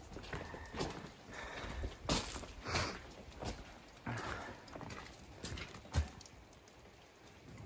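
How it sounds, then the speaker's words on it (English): Horses on an Idaho elk hunt walk in the rain, their hooves giving faint, uneven clip-clop steps with soft thuds and rustling, quiet and fairly close. "The horses look so excited."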